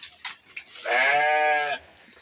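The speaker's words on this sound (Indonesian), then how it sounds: "Kambing-kambingnya yang sedang pada makan lahap." Jawa Randu goats feeding in a simple bamboo pen, with one goat letting out a loud, wavering bleat lasting about a second amid soft chewing and rustling sounds close by.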